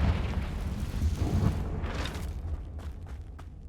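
A Confringo fire spell explodes in the video game Hogwarts Legacy, a dense booming burst that rumbles and then slowly fades, fairly loud with no talk.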